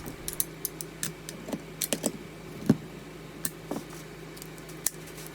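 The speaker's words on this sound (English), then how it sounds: "Here I am switching out the bit on my rigid palm router to a 1/2 inch roundover bit." Small metal clicks and taps from swapping the bit on a Ridgid palm router for a 1/2 inch roundover bit, a scattered run of close, light ticks and knocks over quiet room tone.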